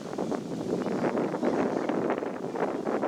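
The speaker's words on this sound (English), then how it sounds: "You can hear the wind is picking up a little bit out here in the open" Steady wind gusting across an open golf course during an amateur championship round, a continuous broadband rush with faint rustling and no voices over it.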